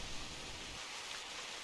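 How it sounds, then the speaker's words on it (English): Rain falling in the hunting game theHunter Classic, a soft, steady broadband hiss at low level with no distinct drops or thunder, no talking. "Ah, it's raining."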